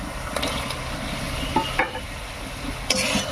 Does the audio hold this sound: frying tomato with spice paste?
yes